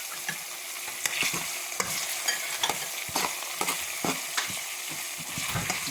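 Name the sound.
onions frying and softening in a pan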